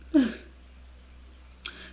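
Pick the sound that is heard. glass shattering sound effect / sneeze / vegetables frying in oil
sneeze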